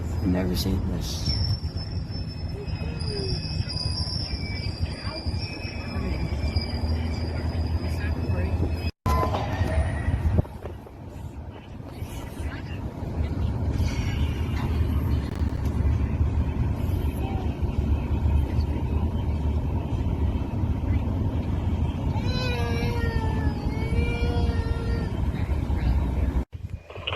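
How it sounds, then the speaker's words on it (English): A train rumbles past steadily, a loud low roar with rail and wheel noise that keeps up from start to end, and voices are heard over it at moments. "Got a train coming."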